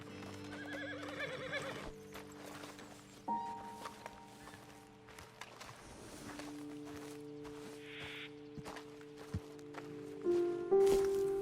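Horses in Red Dead Redemption 2 whinny loudly near the start and again later, with hooves clip-clopping and shuffling on the ground in between, all without any talk.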